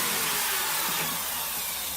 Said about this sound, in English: when drilling PVC, you want to drill through at a high RPM